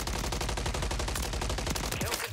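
Rival 9 SMG firing in Warzone, a continuous, rapid, evenly spaced burst of loud close shots that runs almost unbroken, then tails off at the end.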